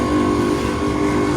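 A repaired Makita electric wheeled lawn mower motor runs with a steady, continuous hum at fairly close range, with no voices over it.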